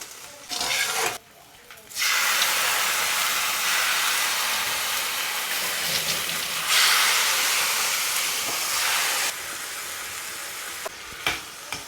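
Boneless chicken fries with green chillies and ghee in a pan, making a loud continuous sizzling hiss that cuts off briefly near the start and swells and eases through the rest.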